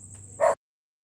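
A single short dog bark, sharp and close, ending abruptly in silence.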